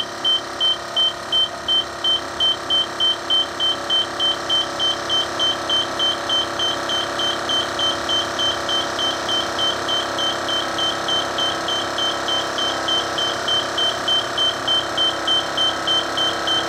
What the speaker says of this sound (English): Listen to the beep.